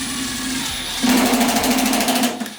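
A Milwaukee impact drill on low setting drives a screw slowly into 16 gauge sheet metal ductwork, a steady whirring motor hum that jumps louder midway with a rapid buzzing rattle, close and without talk.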